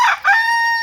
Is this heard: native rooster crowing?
yes